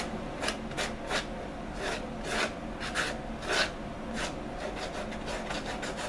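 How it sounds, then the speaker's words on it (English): Repeated rasping strokes of sanding thick cowhide leather, a steady back-and-forth scraping rhythm, close up with no talking. "bovine hide is relatively thick, it can take a bit of sanding"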